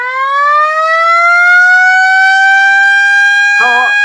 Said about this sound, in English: It's a 14-port siren.